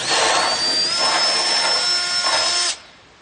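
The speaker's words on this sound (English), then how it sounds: "what you're going to want to do is bore out those holes for your legs" A power drill bores leg holes through a wooden cornhole board with a 3/8 inch bit, a loud steady high whine for nearly three seconds that cuts off abruptly into quiet.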